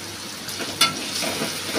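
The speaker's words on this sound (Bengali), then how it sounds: "আবার একটু ভাজা করে নিই।" A steady close sizzle of onion, ginger and garlic frying in a pan, with a brief sharp clink partway through.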